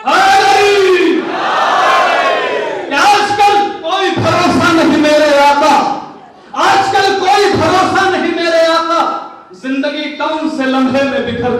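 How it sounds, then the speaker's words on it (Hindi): A crowd at a majlis at the Dargah Hazrat Abbas calls out the salawat together, in loud, chanted voices that rise in several long bursts with short pauses between them. "तो ज़माने भर से एक नारे सलावत इरशाद फरमा दे।"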